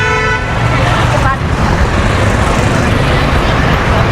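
Busy night road traffic on a Sunday in Jaipur: a steady loud roar of passing vehicles with a long car horn blast near the start and further honks, heard close up with no talk.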